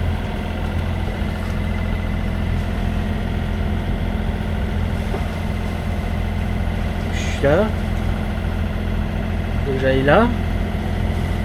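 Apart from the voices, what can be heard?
sailboat's engine running at sea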